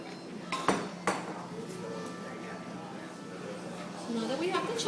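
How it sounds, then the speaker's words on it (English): A whisk works melted chocolate into cake batter in a bowl, its wire striking the bowl in a few sharp clinks near the start, then settling into a steady soft scraping stir, with a faint voice in the background. "now we're going to whisk in the melted chocolate"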